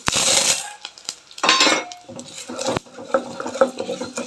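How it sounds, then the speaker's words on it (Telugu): Coriander seeds and chana dal are tipped into a metal pan for a Rayalaseema okra chutney, giving bursts of rattling, pattering grains and clinks of a spoon against the pan, close and with no talk. "కొంచెం ధనియాలు ఇంకా శనగపప్పు వేస్తున్నా"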